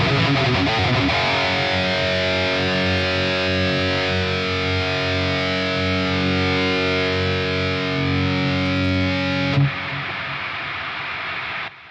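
Electric guitar played through an amp simulator with subtle PA drive distortion, a dense sustained distorted chord ringing loud and steady for about ten seconds before cutting off abruptly into a brief noisy tail.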